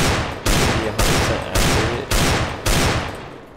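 Desert Eagle pistol fired in the game CS:GO, six loud, evenly spaced gunshots about half a second apart, each cracking sharply and ringing out briefly before the next, with no voices.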